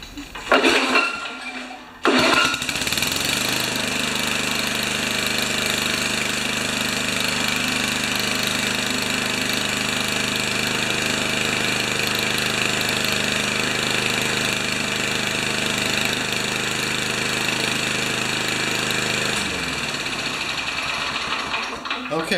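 A 1970 Craftsman Eager Tecumseh small engine starts after a brief fumble and runs steadily, loud and close with a constant buzzing, rattling drone, then cuts out near the end.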